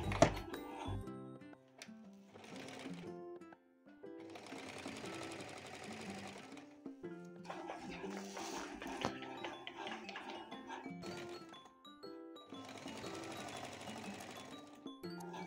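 A sewing machine stitches the shoulder seam of a lined katori blouse in several bursts of steady mechanical whirring, separated by short pauses, with light clinks between runs and no talk.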